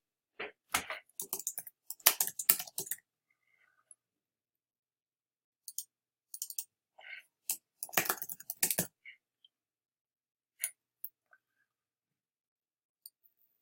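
Clicking and typing on a computer keyboard while editing a Canva layout: scattered bursts of crisp close keystrokes and clicks, separated by silent pauses, with a few isolated taps at the end.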